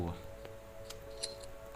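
A brief snipping sound of a sheep being sheared in Minecraft, a couple of faint short clicks over quiet game ambience with a low hum.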